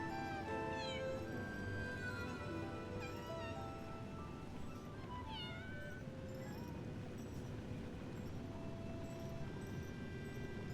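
Repeated cat meows from an in-game cat in Lies of P, sounding as several rising and falling cries over a steady background of game music and ambience, with no talking.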